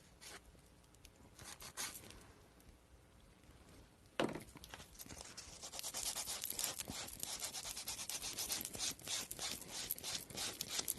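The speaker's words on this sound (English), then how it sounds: "Let's grab our file." A nail file rasps against a fingernail during an at-home manicure, with soft intermittent scratches at first, then steady rapid back-and-forth rubbing close up.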